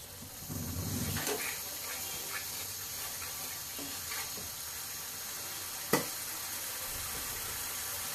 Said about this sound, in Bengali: রুই মাছ রান্না করব, মশলা কষে নিচ্ছি